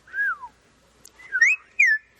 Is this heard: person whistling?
yes